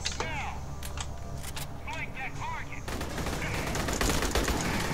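Sustained automatic gunfire in Aliens: Colonial Marines, with a few sharp shots under a man's speech and then a louder, dense continuous stream of rapid firing to the end.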